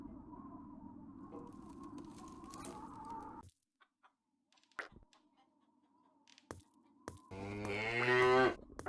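A cow moos in the video game The Whispered World, with farmyard clucking from chickens; the lowing sounds in sustained calls, broken by a quiet pause, then a louder rising moo near the end.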